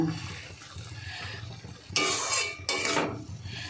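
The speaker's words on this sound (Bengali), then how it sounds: "এবার আমি ঢাকা দেব।" A lid goes onto a cooking pot of garlic, water spinach and bata fish in two sharp metallic clanks, close and fairly loud. Soft bubbling and kitchen noise come first, with no voice.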